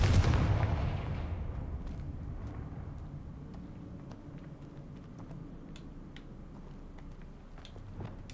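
Confringo fire-spell explosions in the Hogwarts Legacy video game: a loud blast at the start decays into a long rumbling tail, followed by faint scattered cracks and clicks.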